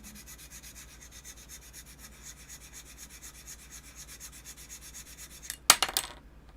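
A hand sanding tool or file rubs back and forth over a model kit part to flatten the surface, giving a steady rhythmic scraping at close range, then ending with a brief sharp clatter.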